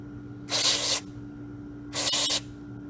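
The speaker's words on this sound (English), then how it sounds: "we're just going to spray some carb cleaner in there in the holes" Two sharp bursts of carburetor cleaner sprayed into the holes of a Kawasaki 580V engine's carburetor, each about half a second long, separated by a short pause, close and loud over a faint steady hum.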